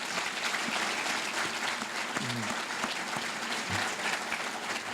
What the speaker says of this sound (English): If we could please have a round of applause for all of our speakers today